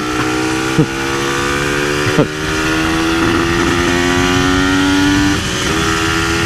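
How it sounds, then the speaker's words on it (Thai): Two-stroke N Pro motorcycle being ridden, a loud close buzzing engine with a couple of sharp throttle blips and gear shifts, then holding a steady high drone. "มีขี่รถเล่นกลับบ้านแล้ว"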